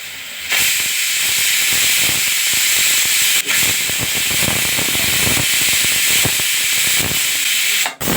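A pressure cooker's whistle lets off steam in a sustained, loud hiss that runs almost unbroken for about seven seconds, cutting off briefly once midway and stopping sharply at the end, with no talking.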